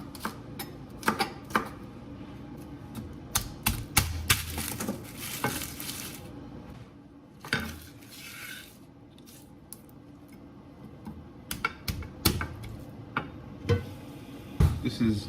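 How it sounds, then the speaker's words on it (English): A knife chops food on a board while preparing a turkey bowl, sharp clustered taps in quick bursts separated by quieter pauses, fairly close in a kitchen setting. "We're gonna cut up a little in advance"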